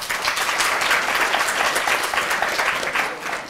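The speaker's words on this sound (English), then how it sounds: "we'll get through more if we don't applaud the question" An audience at a political talk with a professor claps in sustained, dense applause that stays loud and steady before tapering slightly at the end.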